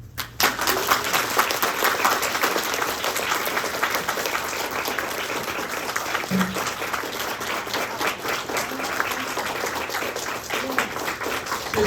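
Sustained audience applause after a Taiwanese-language talk by a doctor at a summer camp gathering, dense even clapping from a sizeable crowd that holds steady for about twelve seconds.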